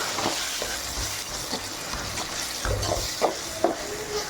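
Onion and ground tomato sauté in a pan for mutton sambar with a constant low sizzle. Irregular spoon scrapes and taps from stirring sound close by, and no one speaks.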